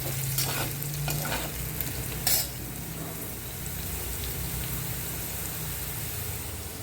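Diced potatoes fry in a pan for a fasting-day sabudana khichdi and are stirred now and then, making a steady close sizzle with scraping strokes and one sharper clatter early on.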